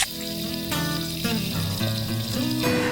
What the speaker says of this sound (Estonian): nüüd kurnasime munad ära ja ehmatame neid külma veega